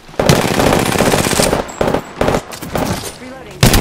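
Bursts of rapid R-99 submachine gun fire in Apex Legends, loud and close, broken into several quick automatic volleys with short gaps between them.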